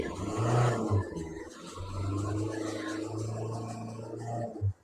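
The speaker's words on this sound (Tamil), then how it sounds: "இன்ஜின் பெட்ரோல் இன்ஜின் மாதிரி இருக்கும். Toyota இட்டியாஸ் GT." A Toyota Etios GT with a petrol engine runs steadily at close range, a low, even hum with a brief rise in revs at the start and a faint whir on top.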